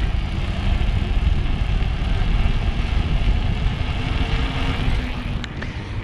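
A Surface 604 Shred e-bike motor running on throttle, a steady low whir under broad rolling and wind noise throughout, with no voices.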